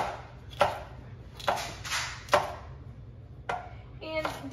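Knife chopping peppers into large pieces on a board for a summer stir fry, about six separate crisp chops spaced unevenly, close and clear over a low background hum.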